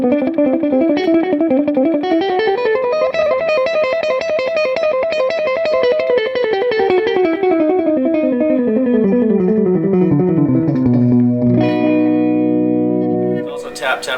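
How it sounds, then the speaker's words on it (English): An electric guitar through a Bogner Alchemist 212 amp plays a sliding, sustained note while the echo effect repeats it. The repeats trail off and lose clarity like an old Echoplex, loud and alone, before a strummed chord rings out at the end. "As the note repeats, you'll get a slight decay. As the echo is decaying, you lose a little bit of resolution"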